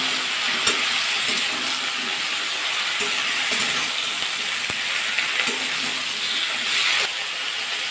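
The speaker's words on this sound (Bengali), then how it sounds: "দিয়ে একসাথে ভাজা করে দেবো।" Mixed vegetables frying together in a pan for a rohu fish-head chorchori, a steady broadband sizzle running the whole time with occasional sharp ticks and clacks from stirring, and no talking.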